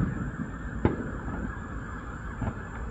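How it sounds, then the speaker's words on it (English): Fireworks burst over a ballpark stadium at night, scattered muffled booms that land as brief thuds over a steady crowd-and-wind background, heard from a distance. "So many fireworks."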